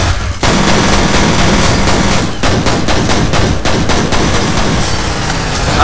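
Loud, nearly continuous rapid gunfire from a weapon in a video game, a dense rattle of shots with booming hits that never pauses.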